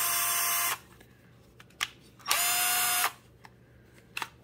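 A Milwaukee M12 cordless drill/driver (2494-22 kit) spins up in two short high-pitched whirring bursts separated by quiet, with small clicks and handling noises between, no talk.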